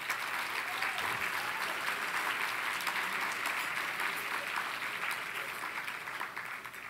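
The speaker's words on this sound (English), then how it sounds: "that's worth applause" Sustained applause from an awards-ceremony audience honoring a sheriff, a steady dense patter of many hands clapping at a moderate distance, continuing evenly throughout and easing slightly toward the end, with no voices over it.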